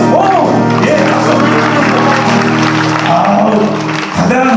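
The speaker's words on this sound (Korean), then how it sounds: "박수! 오! 예, 박수!" An audience in Ulsan claps at an evening worship concert. The loud, continuous applause blends with voices and music throughout, dipping briefly near the end.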